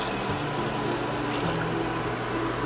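Water pours steadily into a pressure cooker holding soaked pongal rice and dal, a close, continuous splashing gush that runs evenly throughout.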